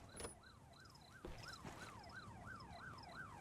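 A police siren in a video game wails, rising and falling in a steady repeating cycle, with a higher electronic tone pulsing above it, moderately distant over a low rumble.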